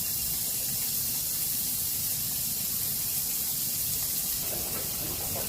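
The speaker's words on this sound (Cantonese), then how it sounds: "將蒜蓉爆香後加入紅蘿蔔" Minced garlic sizzles and crackles in hot oil in a wok, a steady loud frying hiss that fills the whole stretch without a break.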